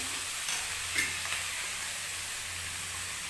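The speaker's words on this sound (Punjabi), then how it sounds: "ਹੁਣ ਆਪਾਂ ਟਮਾਟਰ ਪਾ ਦਿੰਨੇ ਆ ਜੀ ਥੋੜਾ ਜਿਹਾ ਇਹਦੀ ਸੇਕ ਲਵਾਵਾਂਗੇ ਆਪਾਂ" Tomatoes sizzle and fry in a pan for a Punjabi-style capsicum (shimla mirch) sabzi, a soft steady hiss with a few faint stirring scrapes, close and quiet, with no talking.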